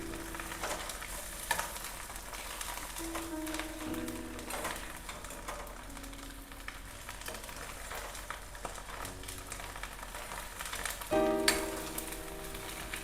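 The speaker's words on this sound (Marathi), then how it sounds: "मस्त अंडी परतून झाली." Eggs sautéing in a kadhai with oil and turmeric, a steady crackling sizzle with irregular spatula scrapes and stirring knocks, close and unvoiced, with a brief louder burst near the end.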